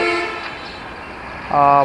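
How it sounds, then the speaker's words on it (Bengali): Banalata Express passenger train running from Dhaka to Rajshahi, its steady rolling rumble carrying throughout and a loud, sustained horn blast sounding near the end. "প্রথম যে ট্রেন জার্নি বাংলাদেশের, এটি হলো ঢাকা থেকে রাজশাহী বনলতা এক্সপ্রেস।"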